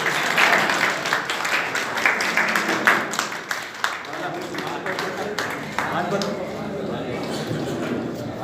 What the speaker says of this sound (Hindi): आप सब लोग उनका तालियों से